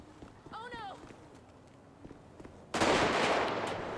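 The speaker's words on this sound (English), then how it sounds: "Shots fired, shots fired." Video game gunfire in GTA V with the LSPDFR police mod: after a short voice and some light clatter, a loud dense burst of shots breaks out and continues to the end.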